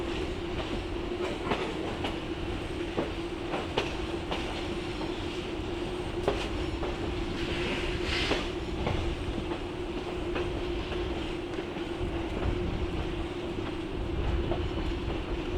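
A passenger train hauled by Southern Railway steam locomotive #630 rolls steadily along the rails, its continuous rumble broken by rhythmic clicks and occasional faint wheel squeals.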